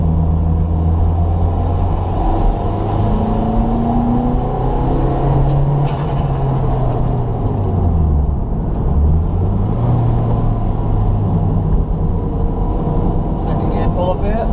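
A turbocharged Toyota MR2 Spyder with a 1ZZ engine drives along a road, a loud, steady engine drone with gear-pull rises and falls heard from inside the car, continuous over its full length.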